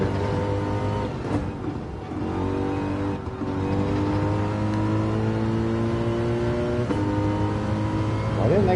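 A front-engine, rear-wheel-drive car in a racing video game holds a loud, steady engine drone with sustained revving tones, shifting pitch now and then over several seconds, with no pauses.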